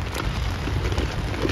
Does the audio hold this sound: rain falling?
yes